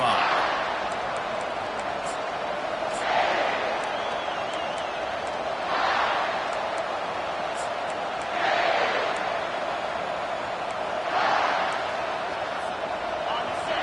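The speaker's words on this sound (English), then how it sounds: "This crowd trying to show them what it's going to be like all day in this house." Stadium crowd noise in a Madden football video game, a constant roar that swells in rhythmic surges every few seconds, heard under commentary.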